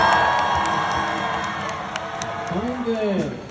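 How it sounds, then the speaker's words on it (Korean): Festival crowd at a concert during a university campus festival cheering and shouting, a loud dense roar of voices with scattered whoops, talk mixed in near the end. "강인재 분께 박수 한번 주시면."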